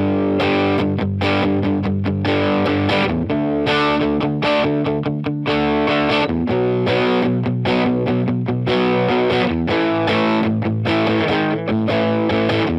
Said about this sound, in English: test this out on a guitar cabinet and see how it sounds on there